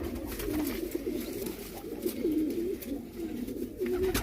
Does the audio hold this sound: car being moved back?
no